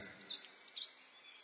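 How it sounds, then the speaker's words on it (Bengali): Birds chirping and calling in short, high tweets at a moderate distance, a bright morning birdsong cue in a Bengali horror story, fading to a faint background hum with no voices. "তন্ময়ের ঘুম ভাঙল পাখির ডাকে।"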